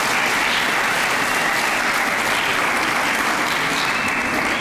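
Graduation audience gives another round of applause in a school hall, an even, loud roar of many clapping hands sustained across the whole stretch with no talking over it.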